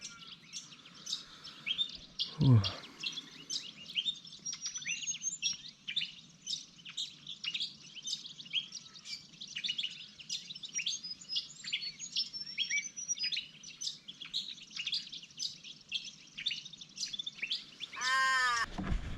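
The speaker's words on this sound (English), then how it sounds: "Birds are up bright and early." Many birds chirp and tweet in a dense, continuous chorus at an early-morning riverside camp, with a brief low rumble near the start and a short burst of rustling near the end.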